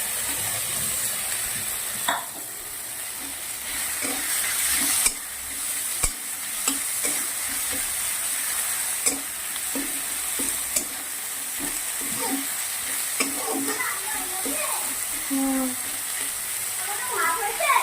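Ginger-garlic paste with kasuri methi, chilli powder and turmeric frying in hot oil, a steady close sizzle broken by scraping stirs and scattered clatters of the spoon against the pan.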